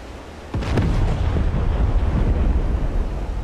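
Heavy high-explosive bombs from a B-52 Arc Light raid burst in a naval combat video game, a sudden loud blast followed by a dense, continuous rumbling roar of overlapping detonations.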